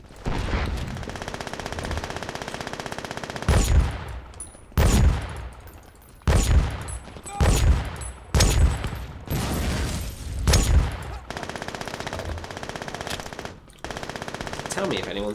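Automatic gunfire in the video game Brink comes in loud, sharp bursts separated by short pauses, repeated several times, with game ambience in between.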